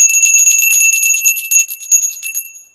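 A small handheld bell rings up close with bright, high metallic tones, jingling in a quick run of repeated strikes that loosen into a few scattered rings and fade out, with no voices.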